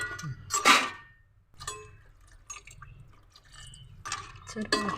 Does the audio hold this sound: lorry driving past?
no